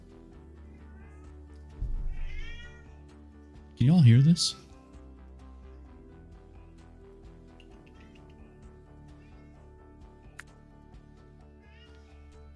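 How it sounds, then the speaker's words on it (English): An indoor cat lets out one loud, drawn-out meow in a room, preceded by a shorter vocal sound. A person speaks briefly nearby. "his meows echo through the room like a siren because of a tornado"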